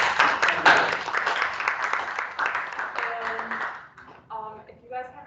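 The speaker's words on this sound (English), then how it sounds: "another round of applause" Audience applause after a lecture on lake sediment cores and climate change, a dense burst of clapping that fades over several seconds, with voices and talk emerging as it dies down.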